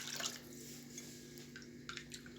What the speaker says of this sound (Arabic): هنضيف كوبايتين ميه عشان انا عامله كوبايه رز بسمتي واحده